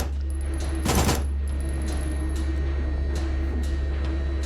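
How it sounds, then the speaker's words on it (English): SMG gunfire in Signalis: one short, loud, crackling burst over a steady droning hum with a high whine, then fainter scattered clicks and taps, no voice. "No, you do not, because I came with an SMG."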